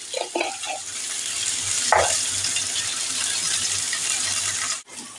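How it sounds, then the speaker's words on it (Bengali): Pointed gourds fry under a lid in a pan over a low-to-medium flame with a pinch of salt, giving a steady, close, even sizzle that runs unbroken and then cuts off near the end. "আর ঢাকনা দিয়ে ঢেকে পটলগুলোকে ভাজা হতে দেব"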